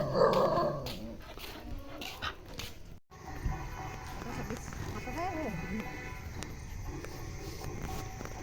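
A dog growls and gives a few whining yelps close by, while voices murmur in the background.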